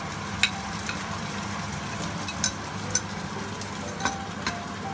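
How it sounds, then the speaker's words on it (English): Ginger garlic paste frying with glazed onions in a pan makes a steady moderate sizzle, with a few sharp pops or spoon taps scattered through it, no talking. "Now at this point, when the onions are glazed, just add all the ginger garlic paste to it."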